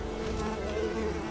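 Mosquitoes buzz in the video game Unravel, a steady, fairly quiet insect drone with a wavering whine that continues without pause and with no voices.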